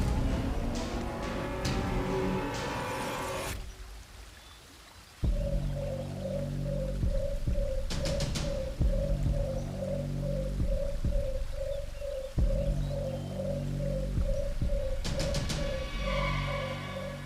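Repeated rhythmic bird calls ring out in a dense forest setting, a steady string of evenly spaced hooting notes over low rumbling music, with a few sharp bursts between phrases.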